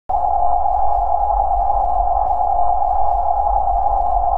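Pothole warning cue in the PC audio game skateBoarder Pro: a steady, loud electronic hum-like tone with a faint pulsing throb, sounding continuously for about four seconds on its own.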